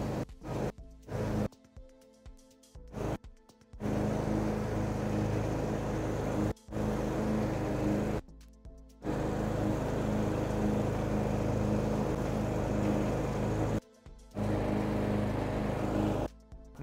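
Husqvarna TC238TX garden tractor mowing grass with its cutting deck lowered to the lowest height, a steady engine drone that cuts out briefly several times and resumes, fairly close, with no talk.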